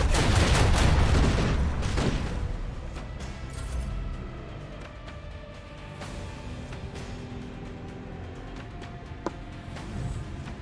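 Ship weapons firing in the space combat of the video game Rogue Trader: a loud opening volley of booming blasts and crackling bursts that thins into a lower rumbling wash with scattered distant impacts.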